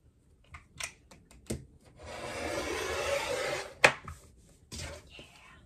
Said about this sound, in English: use my rotary cutter and just make sure that I have all of the selvages in here, and I'm going to go ahead and cut the selvages off